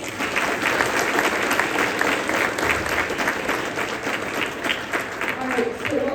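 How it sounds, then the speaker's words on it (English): Sustained audience applause from a crowd at a semiconductor summit hall, steady dense clapping filling the whole stretch without pause. "Can we give another round of applause?"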